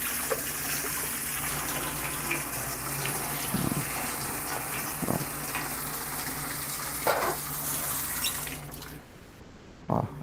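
Water running continuously while construction material is rinsed by hand, a broad close rush with occasional splashes and swirls, ending abruptly near the end.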